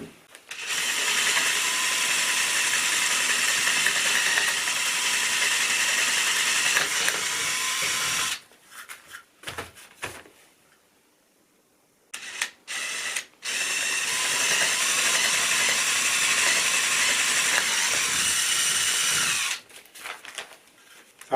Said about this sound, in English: let's put a hole in this for the bolt